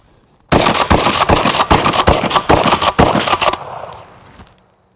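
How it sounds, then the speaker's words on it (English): Remington 870 Marine Magnum shotgun firing dragon's breath rounds outdoors in a field, a rapid string of loud, close, sharp blasts in quick succession for about three seconds, followed by a fading hiss and crackle as the fire dies away. "see how quick we can dump a whole mag of dragon's breath"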